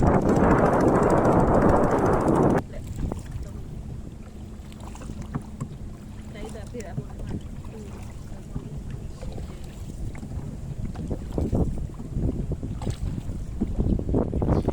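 Steady wind noise buffets the microphone on a small rowboat out on the water, loud and continuous for the whole stretch, strongest in the first couple of seconds and then easing into a lower rush with faint water movement.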